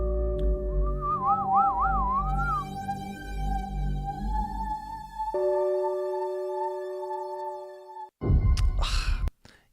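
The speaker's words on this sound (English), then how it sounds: "That whistling sound, that's the sound you have to tame a little bit." A melodic whistle wavers over a steady music track, followed by sustained tones and a brief burst of louder instrumentation near the end.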